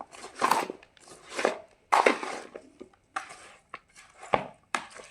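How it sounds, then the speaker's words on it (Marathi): A spoon stirs raw mango pickle through oil, giving a series of wet scraping and clattering strokes in irregular bursts, close and moderately loud with short pauses between. "मधून अजून असं हलवायचं."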